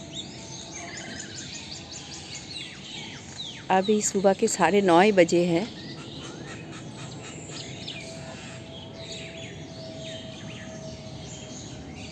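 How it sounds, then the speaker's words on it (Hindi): Morning birdsong with a myna close by: a loud, warbling burst of repeated calls lasting about two seconds, over a steady background of fainter chirping birds. A person speaks briefly at the start. "ये पंछी का आवाज़ मतलब एकदम मन को सुकून देता है।"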